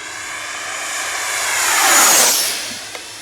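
A Freewing Eurofighter Typhoon RC jet with a 90mm electric ducted fan on 8S power, running at half throttle, flies past with a loud, hissing whine that swells to a peak and then fades as it moves away.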